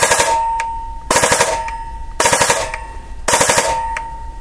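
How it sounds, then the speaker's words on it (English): An airsoft gun fitted with a Perun V2 hybrid mosfet fires four short full-auto bursts at a slow, reduced rate. Each burst is a loud, close rattle of rapid shots, with brief pauses between them. "Let's try the full auto mode here."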